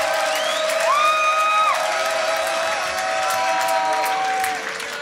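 A crowd at a live event applauding and cheering, loud dense clapping with rising whoops and whistle-like cries that ease off slightly toward the end.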